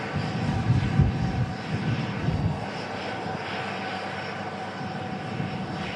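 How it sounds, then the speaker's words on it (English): A 31-year-old Jet2 Boeing 757 arrives from Reus at an airport, its engines producing a steady, loud roar that swells slightly early on and then holds evenly. "Alpha Charlie of Jet 2, one of the legendary 757 aircraft, coming in from Reus"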